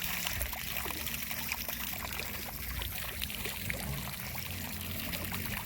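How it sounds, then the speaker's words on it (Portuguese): Well water runs from a pipe in a steady, close pouring and splashing stream, continuous and even throughout, with no talk. "com a água que corre que vem direto do poço"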